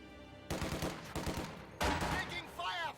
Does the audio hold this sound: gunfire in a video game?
yes